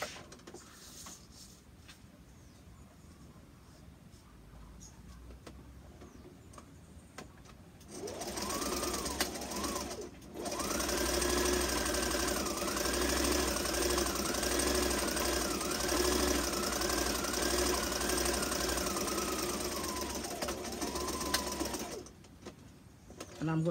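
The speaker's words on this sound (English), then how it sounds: "Now I'm going to go and sew from this end to this end." A sewing machine stitches a fabric face mask in one long, loud, steady whirring run that starts after a quiet stretch of handling, breaks off briefly, then carries on before stopping.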